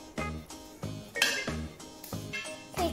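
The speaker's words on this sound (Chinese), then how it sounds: "最后把它们一起全部搅拌均匀" Kale leaves being tossed with French herbs and spices in a bowl, giving a series of rhythmic clinks and scrapes of utensil against the bowl, close and fairly quiet, about six strokes.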